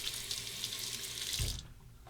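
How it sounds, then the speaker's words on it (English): Tap water runs steadily as a Henson safety razor is rinsed, a bright close splashing that cuts off abruptly near the end. "Rinse that."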